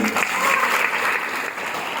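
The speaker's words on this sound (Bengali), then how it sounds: "তো মিস্টার এমডি শরীফ ইসলামের জন্য ফাটিয়ে হাততালি।" An audience at a marketing company event claps loudly and steadily, a dense, continuous wash of applause that lasts the whole moment without pause.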